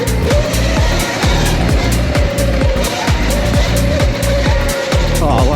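An upgraded Surron electric pit bike ridden on trails, a loud continuous rush of wind and buzzing drive noise with rapid bumps and rattles throughout.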